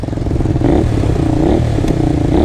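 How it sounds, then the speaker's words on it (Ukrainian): A Honda VTR 250 motorcycle with a straight-through exhaust runs close by, its engine revving up and down in a rough, throaty, loud rumble with a clattering edge. "Дуже добра тяга з низів, дуже крутий звук. Особливо коли тут стоїть такий прямоток."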